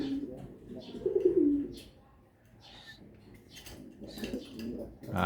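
Older pigeon hen, about five years old, giving soft low coos in a few short phrases, close and fairly quiet with faint background noise.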